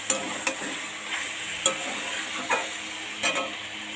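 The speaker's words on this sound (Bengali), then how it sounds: "এই যে চিকেন কষাচ্ছি, বিরিয়ানি রান্না করব।" Chicken pieces being sautéed in a pan for biryani, continuous sizzling with regular sharp taps and scrapes of a spoon against the pan every half second or so, close and without talk.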